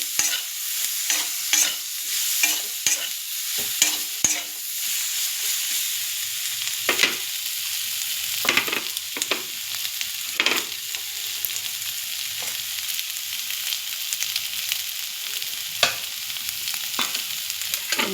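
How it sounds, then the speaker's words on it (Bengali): Turmeric, chili powder and a little sugar sautéed and stirred in a pan for a taro and pumpkin curry, with a steady close sizzle and repeated spatula scrapes and clinks throughout. "দিয়ে আবার কষাতে থাকবো"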